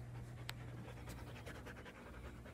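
A dog pants steadily and quickly, close by, with a constant hum of background noise and no talking.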